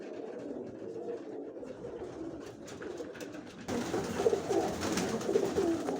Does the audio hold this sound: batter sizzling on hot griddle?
no